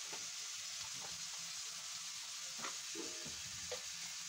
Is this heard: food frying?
yes